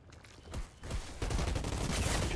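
Rapid gunfire in the shooter video game Outriders, dense bursts of shots building into sustained loud automatic fire.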